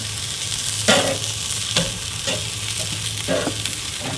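Jerk chicken sizzles loudly and continuously on a Char-Griller Akorn grill, with a dense crackling hiss broken by a few sharp clicks and scrapes as tongs move the pieces.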